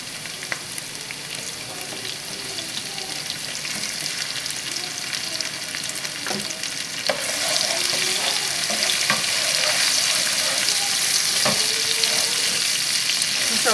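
Onions and vegetables fry in a pan with a steady, close sizzle that swells louder midway, broken by scattered clicks and scrapes of stirring.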